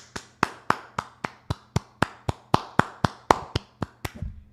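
Applause for a supporter on a live boxing talk show, heard as a steady run of about sixteen sharp, evenly spaced claps from a single pair of hands, close and alone, ending with a brief rustle.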